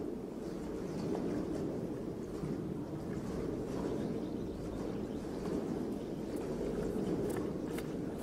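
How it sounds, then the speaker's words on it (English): Steady, low rushing of water flowing through an opened gate valve, a continuous rumbling wash with no talking. "Hear that water flowing?"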